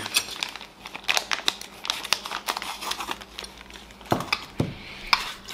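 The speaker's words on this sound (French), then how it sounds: "il est où le ciseau? On va couper le sachet D." A plastic parts bag for a 2016 Kyosho Optima kit is cut open and handled, giving close crinkling and rustling plastic with several sharp snips and crisp rustles in an irregular rhythm.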